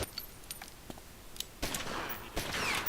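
Gunfire in the gangster strategy game Omerta: City of Gangsters comes as scattered sharp shots, then louder sustained bursts of fire toward the end, with a hiss of background noise.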